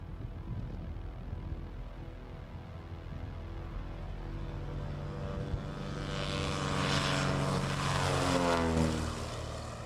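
A propeller aircraft engine drones inside the plane, a steady cabin roar that swells louder and brighter in the second half, with no voices.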